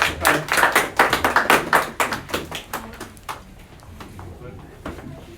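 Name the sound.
audience applause for auction buyer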